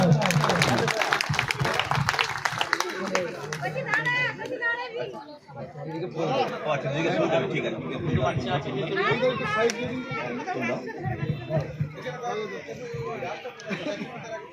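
Crowd applause for Subhash at a cricket cup opening ceremony: clapping from a gathered audience mixed with loud chatter and children's voices, busy and close throughout.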